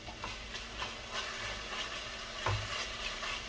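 Chicken masala sautéing in a pan for pepper chicken, a soft steady sizzle under occasional scraping strokes of a spoon stirring, fairly quiet with no talking.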